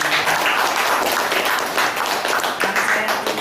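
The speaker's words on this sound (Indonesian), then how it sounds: "kita tepuk tangan" Audience applause at a Golkar political event in Surakarta (Solo) for a mayoral candidate: dense, steady clapping from a large crowd, loud and continuous for the whole stretch.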